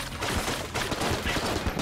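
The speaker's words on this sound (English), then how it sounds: "Let's try the tear cannon." The tear cannon in Enter The Gungeon fires a dense, rapid burst of projectiles, a loud continuous crackling barrage of gunfire lasting under two seconds.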